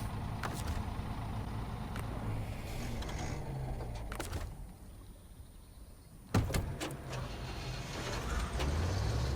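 Truck engine rumbling in SnowRunner on the Smithville Dam map, a low steady drone close by with a brief dip in level and a few clunks, no talk.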